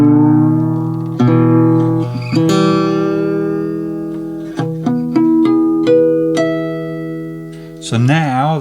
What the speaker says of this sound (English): So I'm going to retune the guitar into an open E tuning.